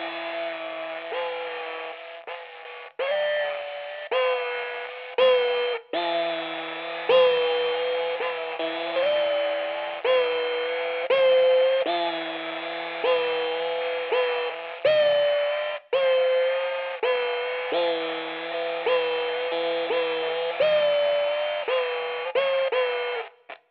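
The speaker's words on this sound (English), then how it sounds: "one vibrato with the Bend Echo." Electric guitar run through a vibrato effect paired with a Bend Echo from a Cooper Fx Generation Loss-style pedal, playing a slow wobbling melody with warbling, pitch-bending sustained notes and short gaps between phrases.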